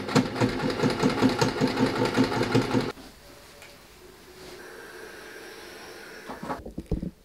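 A sewing machine stitches a jeans seam in a fast, rhythmic chatter of needle strokes for about three seconds, then stops. Quiet handling noises follow, and a brief burst of stitching returns at the end.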